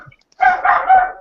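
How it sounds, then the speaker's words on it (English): Dogs bark in a short, loud burst of several overlapping barks close by, with no one talking over them. "sorry about my dogs"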